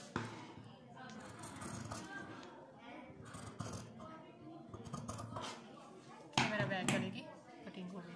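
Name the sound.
cutting the fabric for a shirt's back neckline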